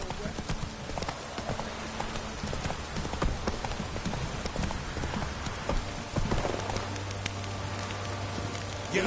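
Roach the horse galloping in The Witcher 3, rapid rhythmic hoofbeats over a dense layer of rain-like game ambience, steady and close throughout.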